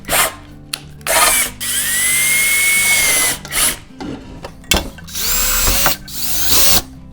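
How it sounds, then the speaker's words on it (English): A power drill bores a few holes in an Enduro Engineering chainsaw mount for a Stihl 201 TC, in close, loud whining bursts separated by short pauses and a bit of handling noise. "we are going to drill a couple of holes in this just to make it a little bit easier"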